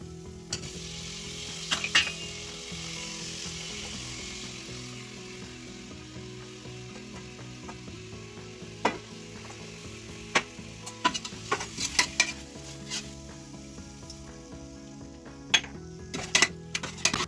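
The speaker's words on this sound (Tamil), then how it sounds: "இப்ப தக்காளி, பச்சை மிளகாய், கொத்தமல்லி, புதினா, தயிர் போட்டு நல்லா வதக்கணும்." Tomato, green chili, coriander, mint and curd sautéing in oil for chicken biryani give a continuous moderate sizzle, with a low steady hum underneath and occasional sharp scrapes and clinks of a spoon against the pan, growing busier toward the end.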